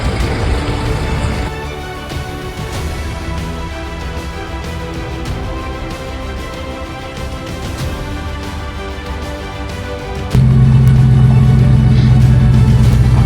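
A donated vehicle sent to a battalion drives off with a steady, loud road and engine rumble. The engine note swells suddenly near the end as it pulls away.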